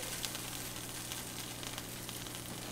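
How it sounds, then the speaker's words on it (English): Fish sizzles and spits steadily in hot bacon grease, a soft, even frying hiss with small pops, with no one talking. "I love cooking in bacon grease."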